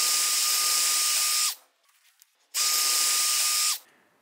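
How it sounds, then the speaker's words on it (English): A power drill bores holes through the aluminum of a hammer form in two loud, sustained bursts of high whining, with a brief pause of faint clinks and handling noise between them. "I want to drill holes through the outer part of the hammer form through the aluminum on both sides"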